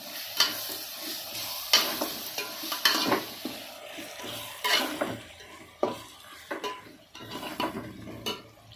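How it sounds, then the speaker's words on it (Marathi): Ground spice powder with star anise sautéed in a pan for prawn biryani, a soft sizzle under repeated scraping spoon strokes and light metallic clinks, close and steady with no voices. "पावडर बनवली होती त्याची ते द्यायचंच आपण त्याच्यात थोडंसं परतून घेऊया"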